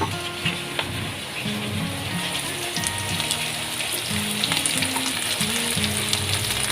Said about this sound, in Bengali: এর সাথে আমি একেবারে আলুগুলোও দিয়ে দেবো